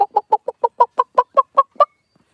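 A hen clucking while being handled, a steady run of about eleven short, evenly spaced clucks close to the microphone, then quiet.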